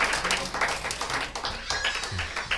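A church congregation claps at a New Year service: brisk, scattered hand claps in a reverberant hall, fairly close, mixed with some voices.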